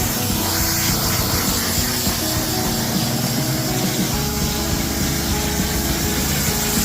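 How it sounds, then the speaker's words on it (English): Water spray rinses freshly scrubbed, degreased car trim in a shady spot, a steady loud hiss of spray that runs unbroken throughout with no pauses. "Now that it's fully scrubbed, he's going to start rinsing."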